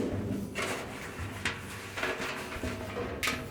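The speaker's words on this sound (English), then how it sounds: "And then we can pull that drum completely out." Amana dryer drum dragged and slid out of the cabinet during idler pulley repair; a few scraping, rumbling pulls and clunks up close, with short bursts of sliding noise.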